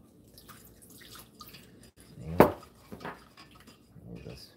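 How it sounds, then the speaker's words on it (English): Cream puff dough being stirred in a bowl gives a wet clack of utensil against the bowl, then softer squelchy scraping, in a kitchen with faint background voices. "I'm going to stir."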